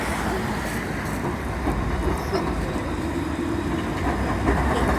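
A Luas tram moves along a Dublin city street: a loud, continuous rumble of rail wheels with steady clattering, heard close by amid street noise.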